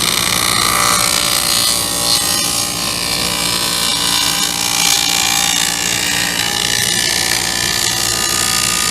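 A power tool cuts a dado into a wooden drawer part for a fishing pole rack, a loud continuous grinding whir with a rough rasping texture that stays steady throughout.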